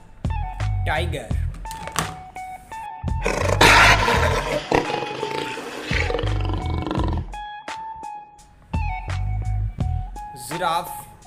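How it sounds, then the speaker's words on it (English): A tiger roar from a plastic animal toy rings out loud and close. Deep rumbling growls swell into a long, harsh roar and end in short grunts. "Tiger."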